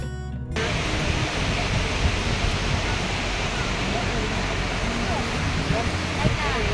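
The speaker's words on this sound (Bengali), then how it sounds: "এখানে বেশ মানে জলের খুব আওয়াজ হচ্ছে" Sivanasamudra waterfall roaring with a steady, loud, broadband rush of falling water that continues without pause, heard close by.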